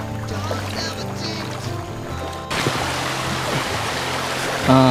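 A boat travels upriver through Kerinci Seblat National Park in Jambi, its engine droning steadily under rushing, splashing water that grows louder and rougher halfway through.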